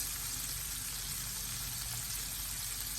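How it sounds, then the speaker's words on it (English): Cod fillets sear in a frying pan over low to medium heat, giving a steady, close sizzling hiss with soft crackles and no talking. "I wanted to pan sear them, kind of like to hold the fish together"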